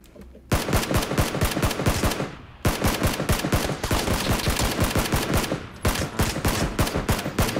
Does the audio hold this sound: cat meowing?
no